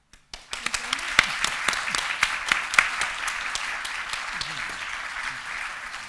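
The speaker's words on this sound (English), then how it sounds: "Can I have one last round of applause for all our speakers and those who've been part of the sessions today?" Applause from a conference audience for the day's speakers, starting suddenly after a short silence with distinct individual claps that build into moderate, steady clapping from a modest-sized crowd.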